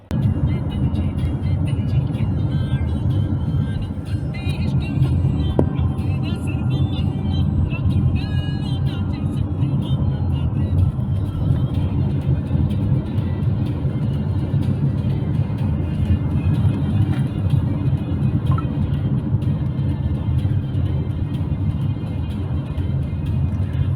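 Street traffic in downtown Austin, Texas, with cars passing in a steady, continuous rumble close by, engine and tire noise rising and falling while a voice talks over it.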